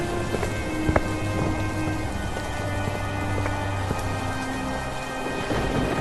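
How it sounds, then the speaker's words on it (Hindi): Heavy rain pours in a constant, loud wash, with low rumbles of thunder rolling beneath it throughout. "बाहर बारिश रुकने का नाम ही नहीं ले रही थी"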